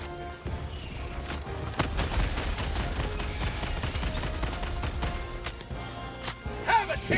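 Automatic sentry turret in Helldivers 2 fires sustained rapid bursts against the Predator Strain, loud and continuous gunfire with dense crashing impacts throughout, growing heavier toward the end.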